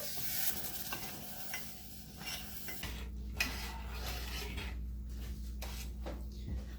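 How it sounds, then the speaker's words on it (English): Cream sauce of milk and flour being stirred in a pan, a steady low scraping swirl with faint sizzle underneath and occasional soft clinks of the utensil against the pan. "All right, you've got your cream sauce mixing."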